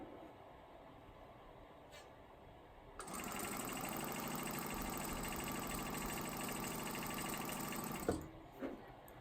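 Sewing machine stitching a quarter inch seam in quilt piecing, starting abruptly after quiet, running steady and close for about five seconds, then stopping with a couple of clunks.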